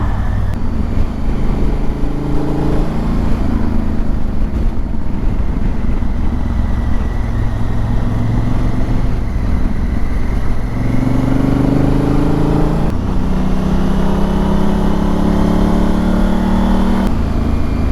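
A Honda Africa Twin motorcycle engine drones steadily while riding, with wind rush and a rising tone as it accelerates midway and again toward the end, loud and continuous with no talk.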